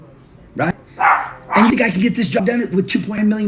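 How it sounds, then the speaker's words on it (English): Dog barking several times in quick bursts nearby, interrupting someone talking over the barks. "Sorry about that dog"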